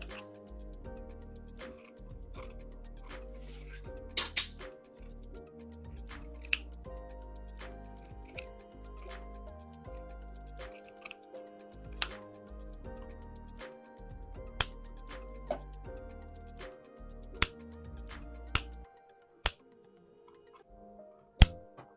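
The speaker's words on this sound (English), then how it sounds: "I'm also going to trim off the excess that I have." Sharp scissors snip away excess fabric on a dress being sewn, a series of crisp separate cuts and small clicks spread unevenly across a quiet background, close to the ear.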